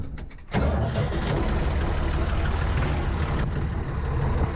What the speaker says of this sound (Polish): Odpalimy maszynę